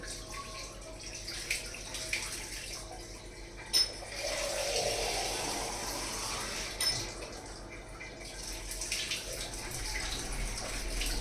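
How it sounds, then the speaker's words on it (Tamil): Water is poured into rice for mutton biryani, running and splashing steadily into the vessel for several seconds, with soft thuds and kitchen handling noises around it. "தண்ணி பிடிச்சி ஊற்றுறது"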